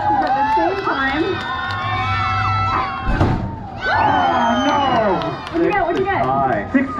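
Crowd cheering and shouting at a live lumberjack show, the loud, sustained roar of many voices swelling and dipping over seven seconds, with a brief lull in the middle before the noise rises again.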